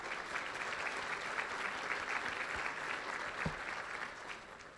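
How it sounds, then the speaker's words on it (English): A large seated crowd at an economic forecast breakfast claps steadily, a broad even wash of applause held for several seconds before easing slightly. "So let's give them a round of applause too"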